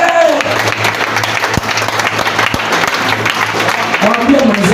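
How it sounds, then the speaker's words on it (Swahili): A church congregation at a live service in Nakuru, Kenya, claps together in a dense, steady burst of applause that runs throughout, with voices mixed in beneath the clapping. "Pigia Bwana Yesu makofi"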